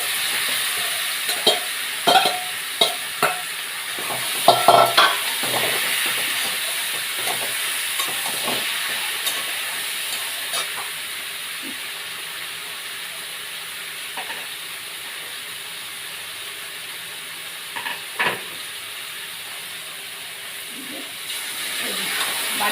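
Seasoned taro stolons are tipped into a hot pan and stirred, with a steady frying hiss running throughout and a cluster of scraping strokes early on that later become sparse.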